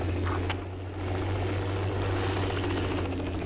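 Helicopter rotor drone in a Forgotten Hope style battlefield video game, a steady loud throbbing hum that carries continuously throughout with a slight dip early on.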